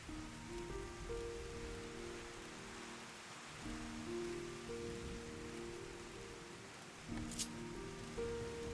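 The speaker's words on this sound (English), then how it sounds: "Oh no, game, you've given me calming rain sounds and calming music." Steady rain falls in Final Fantasy XIV, a soft, continuous hiss of drops on surfaces layered with a calm sustained musical score, even and moderately quiet for the whole stretch with a brief bright chime near the end.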